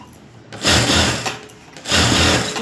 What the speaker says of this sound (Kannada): ಇವಾಗ ನಾವು ಮೇಲ್ಗಡೆಗೆ ಒಂದು ಸ್ಟಿಚಿಂಗ್ ಹಾಕ್ಕೊಬಿಡೋಣ.